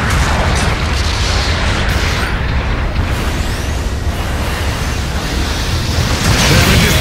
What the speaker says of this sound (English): Enemy mobile suit destroyed.